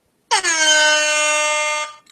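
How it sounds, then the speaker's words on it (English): A single loud blast of an air horn played from a phone app, a brassy, buzzy tone held for about a second and a half and then stopping. "It's called Air Horn."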